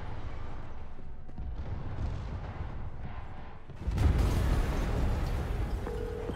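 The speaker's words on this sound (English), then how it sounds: "Yuri, an explosion just... I saw it" A loud explosion erupts in the Marvel's Spider-Man Remastered video game, a sudden broadband blast that swells into a sustained rumbling roar after a stretch of quieter game ambience.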